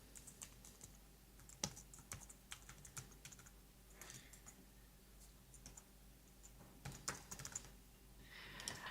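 A subject line being typed on a computer keyboard, heard as a quiet, steady patter of close key clicks with slight pauses.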